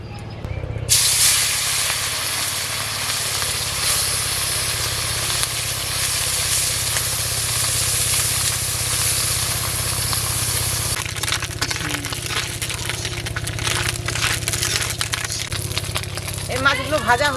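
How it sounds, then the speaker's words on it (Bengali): Small mourala fish sizzle and hiss steadily in hot oil in a pan, with a continuous frying crackle throughout and a voice speaking over it at times. "এর মাছগুলো ভেজে নেব।"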